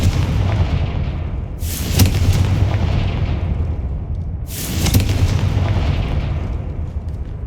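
Two loud, booming fire-spell explosions from the Confringo charm in the Hogwarts Legacy video game, each a sharp blast that rolls off into a rumbling tail over a steady low background drone, with no talking.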